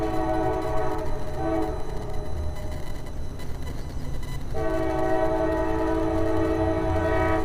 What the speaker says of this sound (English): We have a train on approach.